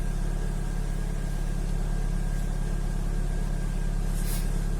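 A petrol car engine idles steadily at close range, a continuous low rumble with a faint tonal hum and no talk.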